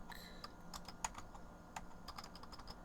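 Keys on a computer keyboard clatter in quick, uneven bursts while commands are entered into a HyperCard text adventure game; the clicking is close but quiet and there is no talking.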